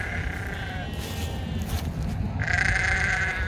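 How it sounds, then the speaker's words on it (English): Goats bleat inside a homestead barn being remodelled, with two drawn-out calls at moderate loudness over a steady background hum. "And the goats are over here."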